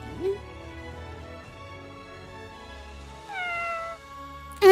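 A cartoonish cat in Monster Hunter Rise lets out several clear meows with rising and falling pitch, set against a quiet game-music bed, with a loud cry at the very end.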